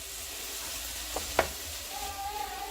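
Minced meat sizzles steadily in a pan over medium heat for filling pastry sheets, a soft continuous frying hiss with a couple of brief clinks or stirring knocks near the middle.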